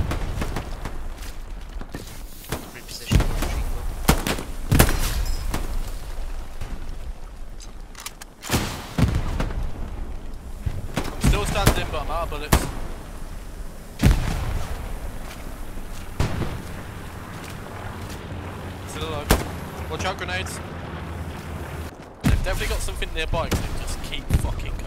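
Frag grenades and gunfire in the World War II shooter Hell Let Loose, with repeated heavy booms and sharp thuds scattered through a chaotic trench fight while players talk over the blasts.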